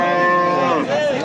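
A cow at a livestock market in Kitob, Qashqadaryo, gives one loud, close, drawn-out moo that dips in pitch near the end, heard on its own.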